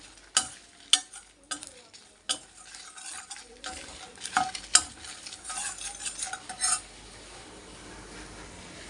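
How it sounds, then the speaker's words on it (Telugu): Cumin seeds and spices fry in a pan for a stuffed brinjal fry. A spoon stirs them with sharp clinks and scrapes over a light sizzle, then the sound fades to near quiet near the end. "ఇది కూడా ఒక నిమిషం పాటు వేయించుదాం"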